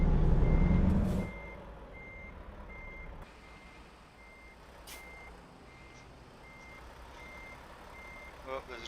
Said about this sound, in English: there's a truck behind me